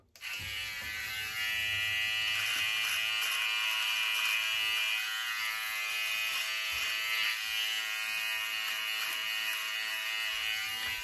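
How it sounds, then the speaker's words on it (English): A Philips OneBlade electric trimmer trimming sideburns, a close, steady high-pitched buzz that runs continuously for about ten seconds with slight changes in tone as it moves over hair. "If you had a beard, there's your beard trimmer, but I'm using it just for my sideburns."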